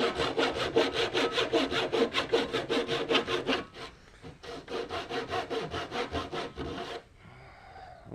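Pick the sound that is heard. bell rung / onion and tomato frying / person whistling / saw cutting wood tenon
saw cutting wood tenon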